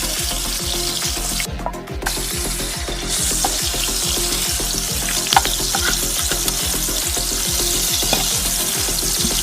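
Tomato pieces and vegetables fry in a pan while being stirred gently, giving a steady, close sizzle broken by regular, rhythmic stirring scrapes throughout, with no talking.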